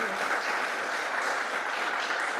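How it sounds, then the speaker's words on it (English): Audience applause at the end of a panel discussion on far-right politics in Europe, an even, continuous patter of clapping at moderate distance, fairly soft, with faint voices underneath. "please, an applause for this"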